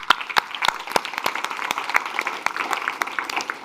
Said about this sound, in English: A big applause for Joyce.